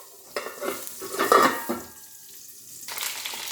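Eggplant fries in hot oil in a pan, a close crackling sizzle with stirring scrapes that rise and fall, fading quieter midway before picking up again.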